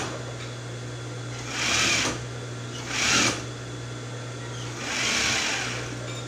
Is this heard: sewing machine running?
yes